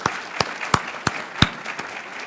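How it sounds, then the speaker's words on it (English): A handful of people clap for the event organizers at an Air Force base industry day panel: sparse, separate claps that come in a loose, uneven rhythm over a quiet room. "So really, round of applause for them as well."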